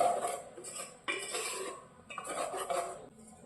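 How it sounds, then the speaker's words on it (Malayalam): Brinjal bajji batter with soda powder and salt is stirred in a bowl, making close clinking and scraping of a spoon against the dish in several uneven bursts with short pauses. "എല്ലാം കൂടെ നല്ലതുപോലെ ഒന്ന് മിക്സ് ചെയ്ത് കൊടുക്കാം"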